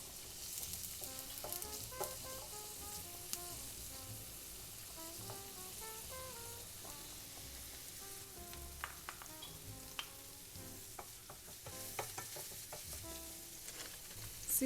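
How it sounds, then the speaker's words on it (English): Garlic and seasoning peppers sauté in hot oil in a pan, giving a steady, moderately loud sizzle with occasional stirring scrapes, under soft background music. "I'm going to be adding some garlic and seasoning peppers. Let's just saute this for a while"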